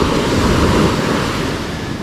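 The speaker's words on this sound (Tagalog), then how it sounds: "Grabe yung alon no" Ocean surf crashes and roars continuously onto a beach, loud and close, with wind buffeting the microphone.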